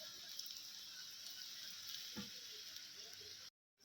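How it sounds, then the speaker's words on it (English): Mushroom fingers fry in oil over a medium flame, a steady dense sizzle running throughout with faint crackles, cutting out abruptly near the end. "We'll fry it all through."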